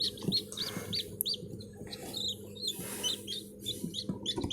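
Young chicks peep repeatedly in high, thin chirps over a low background rumble, close by.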